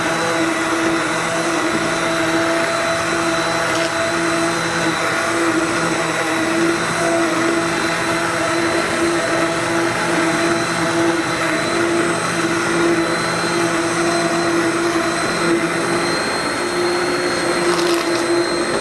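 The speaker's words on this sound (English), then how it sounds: "Now I'm using my immersion blender." An immersion blender whirs steadily through a pot of slow-cooked caramel apple butter, a loud, continuous motor drone with a faint wavering hum and no voices.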